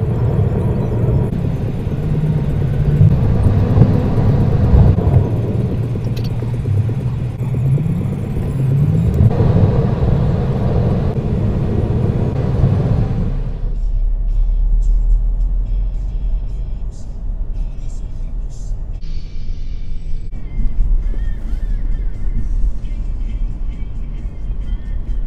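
A car driving through the streets of Shenzhen, China, a steady low engine and road rumble heard from inside, fading to a quieter hum with faint city sounds in the second half.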